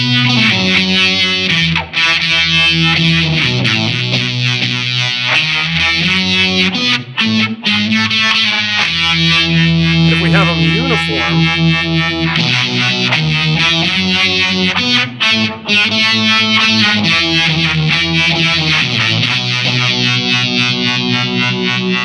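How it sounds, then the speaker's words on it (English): Electric guitar through a SolidGoldFX Aurras optical vibraphase with a Lysis fuzz: a dense, continuous fuzzy wall of chords with a swirling phase wobble, loud and sustained with only brief gaps, no talking. "I'm gonna add in the SolidGoldFX Lysis fuzz and let you hear what this sounds like when these are in that kind of mode"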